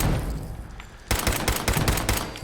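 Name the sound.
gunshots in video game Fallout 4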